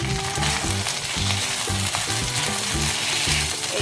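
Chicken pieces fry and sizzle in a pan while being stirred, as palak butter chicken is cooked, a loud continuous hiss with rhythmic scraping and clattering from the stirring, close up with no talk.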